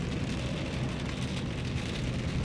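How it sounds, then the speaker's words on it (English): Heavy rain pouring down in Texas during rush hour, a dense steady roar of drops hitting surfaces, loud and close, with no voices. "Raining like the sun was going out here."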